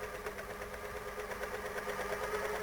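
A My Lock 503 overlock machine runs steadily, its fast motor hum and rattling stitch mechanism trimming fabric along a seam, loud and continuous without pause.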